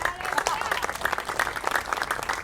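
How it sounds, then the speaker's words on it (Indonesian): A church congregation claps during a Pentecostal-style sermon, a dense, steady patter of many hands with a few sharper individual claps, fairly close and moderately loud, voices faintly mixed in. "Tepuk tangan jangan tanggung-tanggung"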